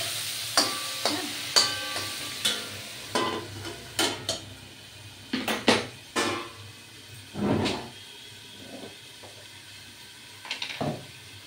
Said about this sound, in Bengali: ঢাকনাটা খুলে একটু নেড়ে দিচ্ছি